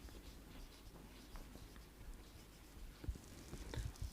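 Pen writing on paper: faint, steady scratching strokes close up, with a few louder taps near the end.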